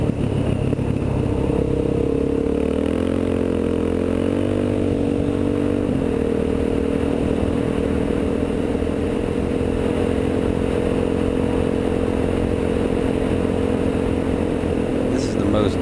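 A Kawasaki KLX motorcycle rides over a rough, barely-there road, its engine droning steadily throughout with a rattle of clatter underneath, heard from the rider's position at constant volume.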